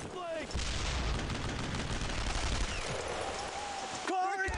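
Sustained gunfire in Brothers in Arms: Road to Hill 30, a World War II shooter, forming a dense, continuous barrage that cuts off abruptly near the end, loud throughout.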